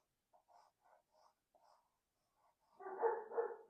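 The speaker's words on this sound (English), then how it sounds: "There goes my dog." A dog barks at a distance: a few soft, muffled barks spaced out, followed by a louder, closer burst of two or three barks at the end, heard on its own without any speech over it.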